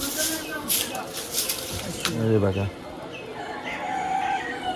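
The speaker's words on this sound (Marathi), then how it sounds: "ज्यांना इकडे गावठी कोंबडा बोलला जातं माझ्या विलेज टाऊनमध्ये" A country rooster crows once in a Konkan village, a clear mid-distance call rising and falling over outdoor background noise.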